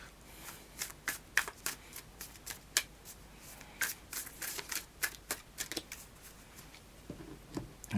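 A deck of oracle cards is shuffled by hand, giving quick soft riffles and papery slaps in irregular bursts, close and fairly quiet in an otherwise still room.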